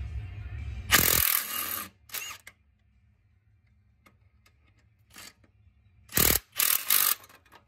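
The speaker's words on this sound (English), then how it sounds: "I got my impact wrench on it." An impact wrench is removing a part on a 2003 Chevy 5.3L engine during an oil pump replacement. Loud, close rattling bursts come in a long opening burst, a short one, and then a cluster of three near the end, with quiet between.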